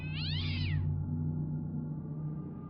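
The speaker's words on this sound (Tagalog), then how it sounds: "Nalakas ang ngiyaw nito. Malapusang galit na galit sa kaaway." An angry black cat lets out one loud, drawn-out yowl, used as a horror-story sound effect, followed by a low steady drone.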